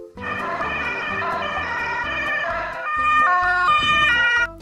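A toy ambulance plays its electronic siren, a loud steady wailing two-tone melody that shifts pitch pattern partway through, heard alone with no talk.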